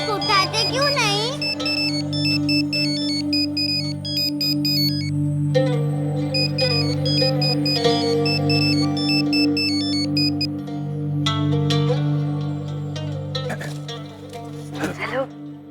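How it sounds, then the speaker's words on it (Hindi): A phone ringtone plays continuously as a repeating electronic melody with steady tonal beeps, loud and close over a drama's background music score; it rings throughout without pause. "आपका फोन बज रहा है"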